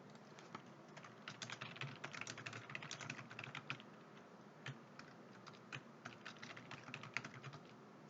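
Rapid typing on a computer keyboard while entering data in an Excel spreadsheet: dense, irregular close-up clicks of keystrokes in quick runs, with a few slightly heavier key presses, and no talking.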